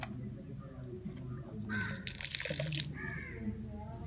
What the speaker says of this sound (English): We pour the water.